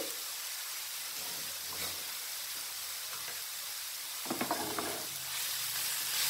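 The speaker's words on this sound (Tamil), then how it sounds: "சேர்த்து நல்லா கிண்டி விட்டுருவோம்." Grated pumpkin for halwa cooking in a pan, a soft steady sizzle with a brief cluster of scraping stirs from a spoon partway through, quiet and close.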